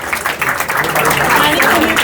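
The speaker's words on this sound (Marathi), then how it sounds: "ह्यांच्यासाठी एकदा टाळ्या होऊन जाऊ द्या प्लीज" An audience at an athletes' felicitation ceremony applauds with dense, continuous clapping that stays loud and close for the whole stretch.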